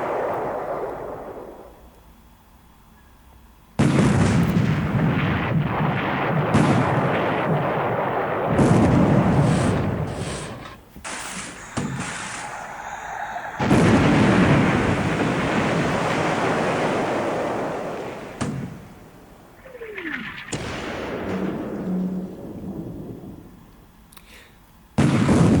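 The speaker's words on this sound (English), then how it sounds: "So I got to use now the secondary artillery 14 centimeter, but 14 centimeter against a heavy cruiser is normally too less." Naval gunfire from 14 cm secondary artillery aimed at a heavy cruiser in War in the Pacific, heard as long, loud roaring blasts and surf-like rushing noise that rise and fall in several waves.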